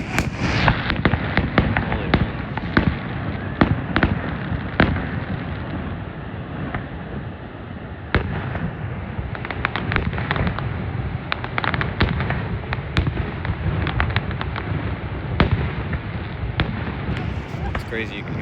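Fireworks burst in a rapid, irregular barrage, sharp cracks and booms rolling into long echoes across open ground, with occasional voices talking nearby between the blasts.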